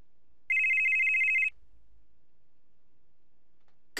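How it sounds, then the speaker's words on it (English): A telephone rings once in a single electronic burst lasting about a second, then goes silent, with a faint click at the very end. "Pick up your phone."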